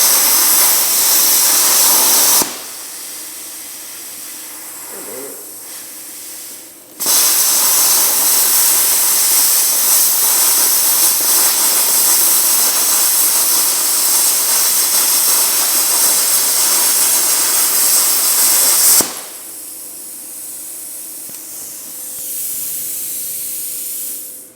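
A Bestarc BTC500 plasma cutter slices through 1/4 inch steel on 110 volt power, a loud, close, sustained rushing hiss of air and arc, broken by brief quieter pauses between passes.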